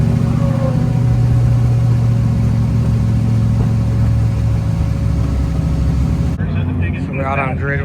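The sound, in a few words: Aston Martin GT4 race car engines idling on grid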